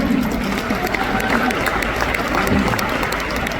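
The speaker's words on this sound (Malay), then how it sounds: "Tepukan sekali lagi untuk seluruh barisan upline" Sustained applause from a large audience at an Amway recognition event in Kuala Lumpur, a dense and steady wash of clapping with crowd noise that stays even for the whole stretch.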